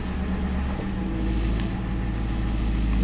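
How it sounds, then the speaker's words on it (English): A used police car with its transmission shifted into reverse, giving a steady low mechanical drone with a faint rattle running through it, close by and continuous, with no voices. "We've got a little bit of rattling noise."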